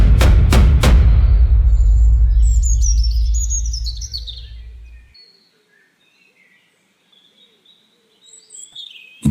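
Songbirds chirp and call at a backyard feeder, a run of bright tweets after a few loud thumps at the start, then quieter scattered calls trailing off into near silence before a brief chirp at the end.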